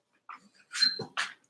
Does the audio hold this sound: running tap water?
no